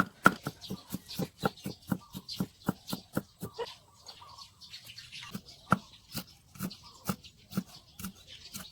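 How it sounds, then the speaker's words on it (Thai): A knife finely chops garlic rapidly and steadily on a cutting board, sharp even taps with a short pause midway, close and fairly quiet. "ในส่วนของกระเทียมนะครับ เราใช้หั่นนะครับ แล้วก็สับซอยให้ละเอียดนะครับผม"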